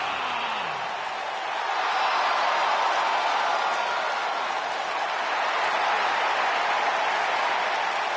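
A large wrestling arena crowd in London claps for the tag team champions, a dense, steady roar of applause sustained throughout. It swells slightly after the first second and holds loud and full, with no clear single voices standing out.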